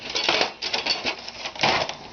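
Metal canning jar lids clink and rattle together up close, a run of quick, light jingling taps with short gaps and no voices.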